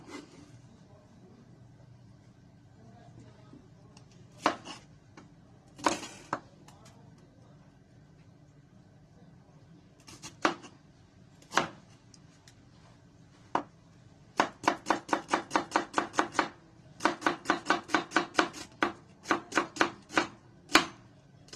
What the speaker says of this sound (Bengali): পেঁয়াজ মরিচ কিভাবে কাটতে হয়